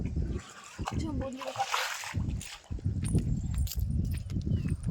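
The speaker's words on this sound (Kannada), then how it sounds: "ಈಗ ಹೌಸಿನೊಳಗಿಂದ ನೀರು ತೊಗೊಂಡು ಹೋಗಿ ನೀರು ಹಾಕ್ತೀನಿ ರೀ ಅವ್ಕೆ" Water from a household tank is splashed and sloshed onto garden plants, with short bursts of splashing and container knocks, while someone talks over it.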